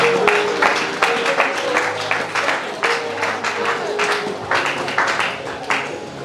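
A church congregation at a Sunday worship service in Pointe-Noire applauds and acclaims, with steady crowd clapping throughout and a loud, busy roomful of cheering voices mixed in.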